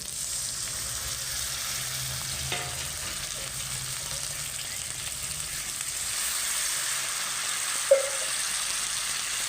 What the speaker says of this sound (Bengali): মশলা আমার খুব ভালো করে ভাজা হয়ে গেছে, আমি এবার অল্প একটু জল দিচ্ছি।